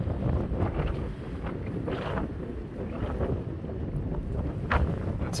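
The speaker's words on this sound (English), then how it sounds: "It is really windy." Strong wind on a mountain ridge buffets and roars across the microphone in continuous gusts, with no voices.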